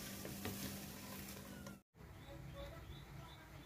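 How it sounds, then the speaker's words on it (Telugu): Poha flakes fry in hot oil with turmeric, giving a steady close hiss and crackle with a brief gap of silence partway through. "ఇందులో అటుకులు వేసి వేయించుకుందాం."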